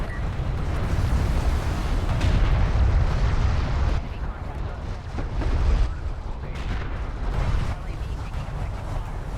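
Artillery barrage explosions from the strategy video game Homeworld: Deserts of Kharak make a loud, continuous rumbling roar of overlapping blasts, with voices talking over them.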